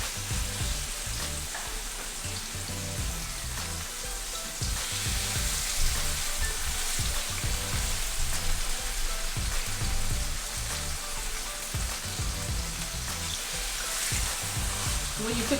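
Fish fillets fry in hot oil in a pan, a dense continuous crackling sizzle like heavy rain, steady and close throughout with occasional soft bumps and no speech.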